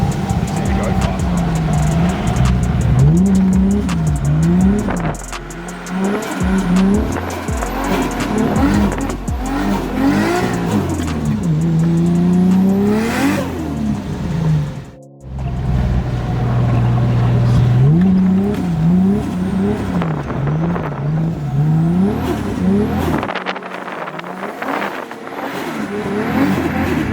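A Lamborghini Gallardo drifting hard, its engine revving up and down while the tires squeal in long sweeping slides, loud and close, with a brief drop in the middle before the sliding resumes.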